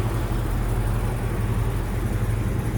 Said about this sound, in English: That's on idle, obviously, with the AC on. She sounds very, very nice. Hear that exhaust.